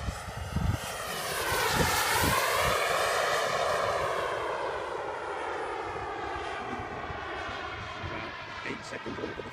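A Jetcat P70 turbine in a model jet, a steady whining roar with a shifting pitch and a harmonic sweep, fairly close, as the jet taxis, with people talking faintly underneath.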